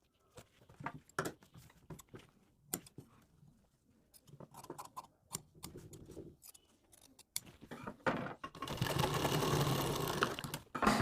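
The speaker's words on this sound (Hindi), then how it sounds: "कटिंग करने के बाद आपको यहाँ पे इसमें एक सिलाई लगानी ताकि यहाँ पर ये ऐसे जम जाए इसे" A sewing machine runs a steady stitching burst on blouse fabric near the end, after scattered taps and handling noises over a mostly quiet stretch.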